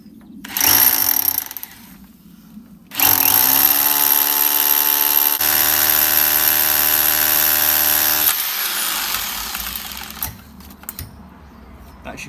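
A drill boring through a brick wall, switched from hammer mode to normal drilling, whines steadily for several seconds after a short earlier burst, then eases off as the bit runs through.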